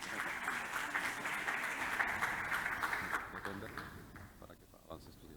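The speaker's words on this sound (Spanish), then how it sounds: "Un fuerte aplauso para nuestro amigo." An audience at a cybersecurity presentation in Peru applauds, dense steady clapping that thins and fades after about three seconds as a few voices begin to murmur.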